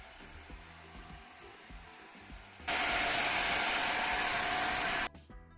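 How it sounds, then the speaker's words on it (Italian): The Jimmy HW9 cordless 3-in-1 floor washer vacuums up crumbs with a loud, steady whooshing whir that starts abruptly over a quieter background, holds for about two seconds, then cuts off. "la lavapavimenti aspira molto bene e in due passaggi non rimane più nulla sul pavimento"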